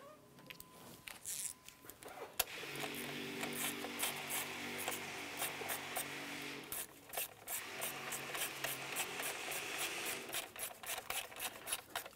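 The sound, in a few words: tightening nuts on a Honda Civic with a ratchet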